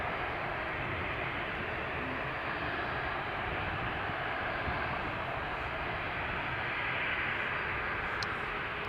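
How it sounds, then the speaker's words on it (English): A Cathay Pacific Airbus A350 taxiing toward runway 36L at Amsterdam Schiphol, heard as a steady, even jet-engine roar from a distance, holding constant without breaks and with no voices. "Cathay Pacific A350 just started taxiing, coming to 36 left, Marissa says."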